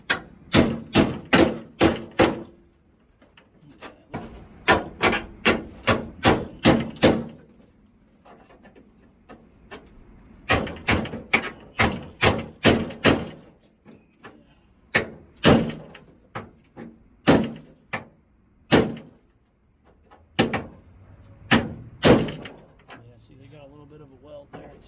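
Metal panel being pried off a 1990s Ford Bronco rear quarter, heard as sharp repeated snaps and creaks in irregular bursts, close and loud, with brief pauses between groups.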